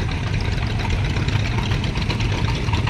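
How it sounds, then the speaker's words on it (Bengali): Several motor boats run along a river near a resort at Kolaghat, their engines giving a steady, dense low drone that holds evenly throughout with no talk. "রেস হচ্ছে মনে হয়, এতগুলো বোট।"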